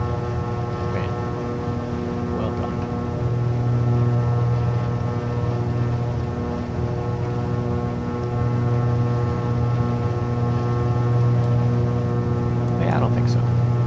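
Steady propeller engine drone of a Black Square Baron 58P twin-engine plane in Microsoft Flight Simulator, a continuous loud hum with strong low tonal bands that swell slightly partway through, heard under occasional talk.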